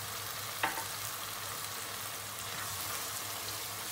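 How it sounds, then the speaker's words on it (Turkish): Water hits a hot pan of spaghetti and sizzles with a short sharp burst, then settles into a quiet, steady frying hiss over a low hum. "İçine yarım çay bardağı bir su boşaltıyoruz."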